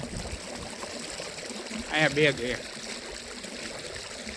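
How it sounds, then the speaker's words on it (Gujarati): Irrigation water trickles steadily through a pipeline into a groundnut field, a soft continuous flow with a brief spoken phrase cutting in midway. "મગફળીમાં અત્યારે પાણી ચાલુ છે"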